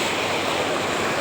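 River water running near a Devi temple makes a brief, steady broadband rushing wash close by, with no voices over it.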